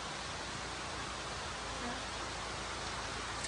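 Steady, dense rain pours during the rainy season, a close, even hiss that holds without a break for the whole stretch, with no voices over it.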